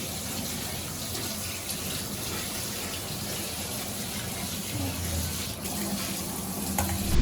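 Tap water runs steadily over blanched spinach in a sink to cool it, a close, loud, even gush that holds for the whole stretch, with no speech.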